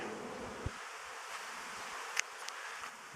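A honeybee swarm at an apiary, settling into a hive, gives a faint, steady buzzing that hangs in the background, broken by a few small knocks and clicks.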